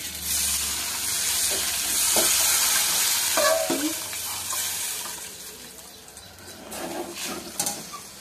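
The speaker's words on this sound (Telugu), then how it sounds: "కరివేపాకు ఇట్లా మంచిగా వేయించి ఇందులో వేసుకుంటే మరుగుతుంది కదా" Curry leaves sizzling and frying in a hot pan, a steady crackling hiss with occasional stirring clinks, close and moderately loud with no talking.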